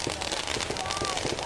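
Distant fireworks on a New Year's Eve night, a dense, continuous crackling patter of small bursts, steady and moderately quiet, with faint voices in the background.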